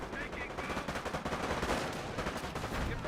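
In Company of Heroes, continuous machine-gun and rifle fire rakes a squad of Panzer Grenadiers, a dense rattle of overlapping shots at a steady, moderately loud level with no pause.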